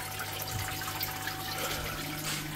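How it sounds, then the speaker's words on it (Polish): A 12V pump draws water into an aquarium, a steady low electrical hum beneath continuous running and splashing water, close and unbroken throughout. "Pompka ładnie pracuje, zaciąga nam wodę, ładnie nam tutaj się wlewa"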